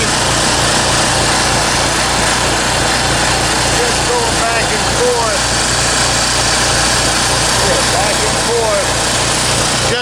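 A Champion generator engine at idle, loud and close, with a steady small-engine drone that surges and dips in a faint repeating cycle.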